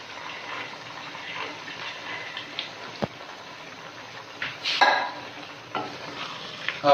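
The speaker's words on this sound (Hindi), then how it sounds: "अब हम इसके अंदर साथ ही फलियां डाल देंगे।" Green beans going into a pan of frying potatoes, a low steady sizzle with stirring and scraping, a sharp knock midway and a brief louder clatter as the beans are tipped in.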